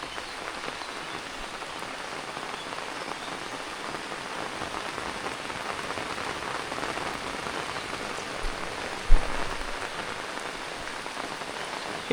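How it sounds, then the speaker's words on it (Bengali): Steady rain falls on a rooftop garden, an even, dense hiss of drops that stays constant throughout, with one faint low knock near the end and no voices. "ছাদের থেকে সুন্দর বৃষ্টি উপভোগ করা যায় এই"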